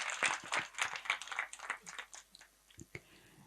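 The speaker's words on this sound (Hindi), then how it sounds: "एक बार ताली तो बजा दो संजय जी के लिए" Audience clapping at a religious discourse in honor of Sanjay ji, a burst of scattered, uneven handclaps that thins out and trails off into a few isolated claps.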